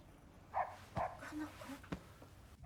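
A dog named in a Korean-narrated review of a Japanese horror film barks a few times in a night scene, moderately quiet, with soft background sound beneath.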